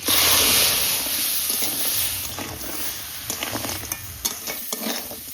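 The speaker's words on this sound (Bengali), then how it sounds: "সর্ষের তেল দিয়ে ফার্স্টে কাঁকড়া ভাজবো" Washed crabs fry in mustard oil with salt and turmeric, starting as a loud hissing sizzle that settles into a steady crackle, with sharp clatters of a spoon stirring the pan.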